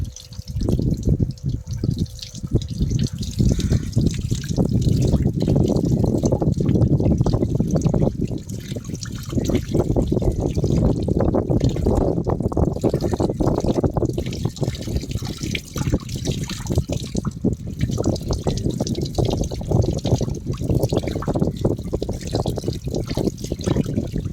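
Tap water runs and splashes while a Yamaha Fazer 150 motorcycle is washed at home, a continuous close trickle and spatter that stays steady throughout with no voices.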